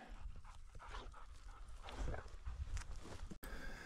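A hunting dog on a sharptail grouse hunt pants rapidly and steadily close by, quick rhythmic breaths with faint movement and footsteps outdoors, fairly quiet overall.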